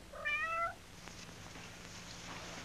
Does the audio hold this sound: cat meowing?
yes